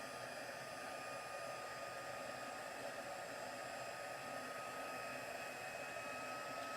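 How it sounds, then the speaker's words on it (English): A heat embossing tool for card making blows a steady, even hiss of hot air, a constant dryer-like whoosh held throughout at moderate level with no speech over it. "heat this up. Takes a little while to heat up. But we will emboss this."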